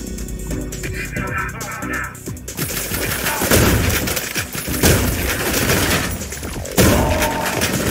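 Dense enemy gunfire in the retro shooter Ion Fury, rapid overlapping shots and bursts rattling continuously and loudly with sharp impacts, thickening into a heavy fusillade in the second half.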